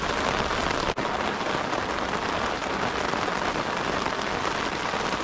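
Steady, dense rain pours down during a thunderstorm while fishing on the River Wye, a constant close hiss of drops on surfaces with no talking.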